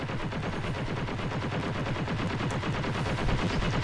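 Rapid, continuous automatic gunfire from the mobile shooter game Call of Duty Mobile, dense and steady throughout without pause, with no voices audible over it.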